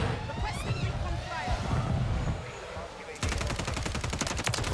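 Rapid automatic gunfire from a gun in a shooting video game bursts out loudly in the last second and a half, after stretches of game noise with voices talking.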